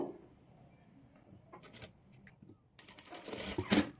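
A sewing machine stitches a cross stitch over thread piping on a blouse, a quiet run of mechanical whirring and clicking that builds into a louder, busier burst toward the end, with no talking.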